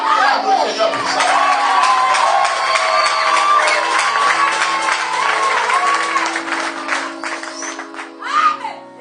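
A church congregation cheers and acclaims loudly, a sustained wash of shouting, whoops and applause lasting throughout, with voices calling out over the crowd.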